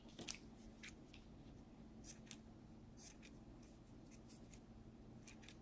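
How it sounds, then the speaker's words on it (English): Dull scissors snip repeatedly at an uneven pace, each cut a short crisp click, close by over a steady low hum with no talking. "I think I need to get sharper scissors."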